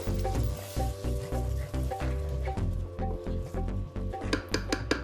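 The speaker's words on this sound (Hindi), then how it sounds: "आपके मसाले भी भुन रहे हैं और साथ में दही का कच्चापन भी मर रहा है" Spices and curd sizzle with tomatoes in a pan, a dense, steady frying hiss with rhythmic stirring scrapes and light clinks of a utensil against the pan.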